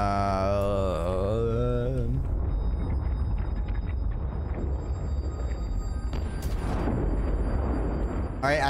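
In the video game Subnautica: Below Zero, a rumbling explosion fills the scene after an opening tonal hum, with a loud, dense roar and a sharp burst near the end.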